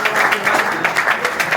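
An audience in a gathering honouring Bahrain's national team goalkeeper breaks into quick, rhythmic clapping, close and lively, with a voice faintly under it.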